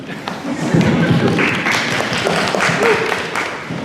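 Clapping from a fan audience at a Harry Potter cast Q&A at Universal Orlando, a dense and fairly loud wash of applause with murmuring crowd noise mixed in.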